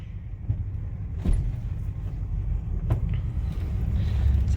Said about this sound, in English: Can't, car coming.